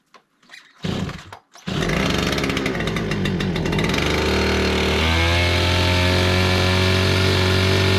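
A Stihl power tool's two-stroke engine pulls over with a couple of short bursts, then catches and runs steadily and loudly at a high, even pitch, close by.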